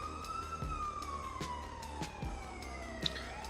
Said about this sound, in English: shortly thereafter, you hear sirens off in the distance.